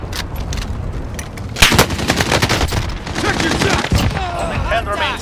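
Rapid bursts of automatic gunfire in Call of Duty: Modern Warfare, loud and close, with sharp repeated shots clustering mid-clip amid battle noise and faint in-game voices.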